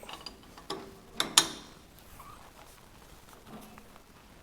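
Tightening tool working on a Mueller tap fitting gives a few sharp ratcheting clicks, loudest in a quick pair near the start, then fades to a quiet background with faint scattered ticks.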